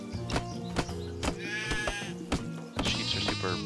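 Sheep bleating in Craft The World, a few wavering bleats over steady background game music and tapping, moderately close with no talk.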